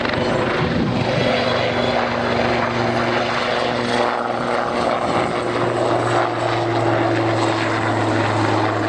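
A Lynx military helicopter roars steadily close by during a flying display, its rotor drone and a high turbine whine holding loud and constant throughout with no talking.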